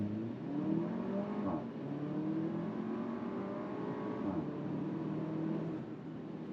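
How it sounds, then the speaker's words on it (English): A 2022 Porsche Macan accelerates hard from 0 to 60 in sport mode, its engine note climbing steadily with two clear gear shifts, heard from inside the cabin as a continuous, moderately loud rising drone. "we're going to start with a 0 to 60 in sport mode"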